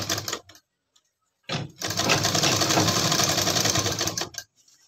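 A sewing machine runs in one steady burst of about three seconds, stitching a belt onto trousers, after brief handling noises and a pause.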